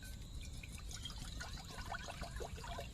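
Natural water poured outdoors in a garden or forest camp cooking setting, a steady close trickle with dribbling splashes running throughout over a low rumbling background.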